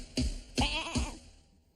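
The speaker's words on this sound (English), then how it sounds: "It's just goat language" Goat kids bleating, three short, close calls in quick succession with the last trailing off into quiet.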